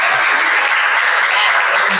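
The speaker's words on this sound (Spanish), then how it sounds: "Un aplauso para las chicas." Dense audience applause fills a room at a book launch presentation, a steady broadband patter of many hands with some voices mixed in.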